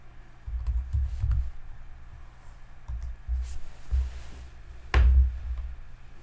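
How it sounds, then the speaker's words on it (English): Typing on a computer keyboard while entering commands for a Fanuc circle program, irregular bursts of close key clicks and taps with short pauses between them and one sharper thunk near the end. "Forgive my typing here."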